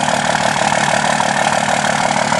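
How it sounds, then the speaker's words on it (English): A pickup truck with a 5.9 engine and a loud aftermarket exhaust idles close by, a steady, loud, throbbing rumble with a fast even pulse and no talk. "it's got a pretty loud exhaust system on it."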